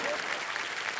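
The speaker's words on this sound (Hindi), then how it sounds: "अब ताली मारो" A studio audience on a TV game show claps in a brief, even burst of applause with a voice over it.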